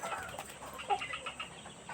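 Three-month-old Mardi chickens cluck softly in short, scattered calls, fairly faint against a quiet background hiss.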